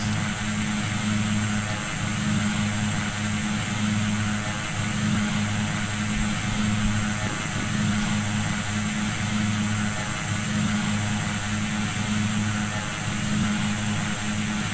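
A Pilatus PC-12 turboprop in flight in the X-Plane flight simulator, a steady loud engine and propeller drone with constant hum tones, unchanging throughout and with no talking.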